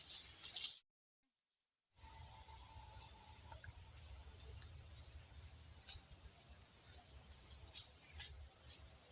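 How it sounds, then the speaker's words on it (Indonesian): Water flows along an irrigation ditch beside rice fields, a soft constant rush beneath loud, steady insect chirring, broken by a short silent gap near the start. "Nah ini air mengalir teman-teman"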